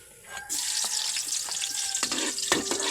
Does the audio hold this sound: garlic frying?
yes